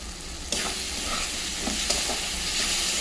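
Banana flower curry with boiled chickpeas, seasoned with turmeric, chilli powder and salt, being stirred and fried in a pan: a steady close sizzle with scraping spoon strokes across the pan, alone without talk.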